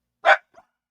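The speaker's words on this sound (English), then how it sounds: "What are you barking at?" A dog barks once, loud and close, sharp and short, followed by a faint softer yip; no talking.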